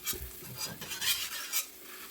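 Eggs cook in oil in a Smithey cast iron farmhouse skillet and get slid around the pan, giving a faint sizzle mixed with soft scraping and rubbing against the iron, heard close and quiet.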